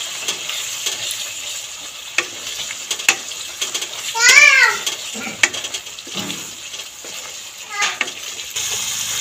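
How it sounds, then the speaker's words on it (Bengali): Spice masala for vegetarian Kashmiri aloo dum is stirred and fried in a pan, giving soft sizzling and repeated scraping strokes. A short, high meow-like cry rises midway, and faint voices sound in the background. "সব সমেত একটু আবার একটু ভালো করে কষিয়ে নেব।"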